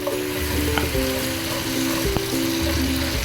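Butter and brown sugar bubble and sizzle steadily in a pan as they melt into a glaze for peach chicken wings, a close, continuous frying hiss with a faint stirring clink.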